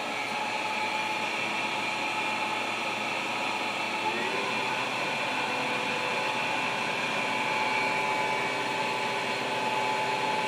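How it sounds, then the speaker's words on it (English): Coolant pump on a Chevalier CNC flat bed lathe running with a steady, rattly mechanical hum and hiss, constant and fairly quiet, with the machine's tones underneath. "That's the coolant pump coming up, that rattly noise."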